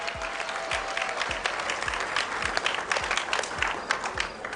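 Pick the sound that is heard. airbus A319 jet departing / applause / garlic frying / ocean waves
applause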